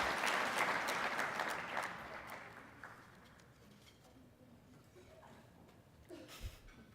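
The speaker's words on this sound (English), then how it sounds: "Got a bit of a cheering crowd out there." Audience applause with a few cheers at a volunteer awards ceremony, loud and dense at first, then fading over the next few seconds to a quieter room murmur with a brief late burst.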